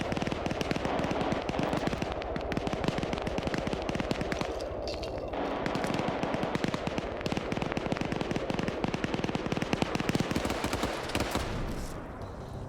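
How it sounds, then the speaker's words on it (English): Rapid crackling bursts and booms fill a multiplayer war game battle, dense and continuous like distant gunfire and explosions, with a steady low rumble underneath and no voices. "We just heard an explosion off in the distance."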